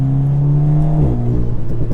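A tuned Alpine A110 engine revs with a deep, muffled drone that holds steady, then drops in pitch and settles into a lower, rougher idle, close and loud without any voices.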